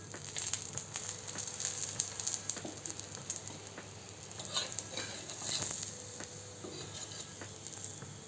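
An aloo paratha fries in oil on a pan, a dense continuous sizzle and crackle heard close up with light patter, steady throughout and free of talk.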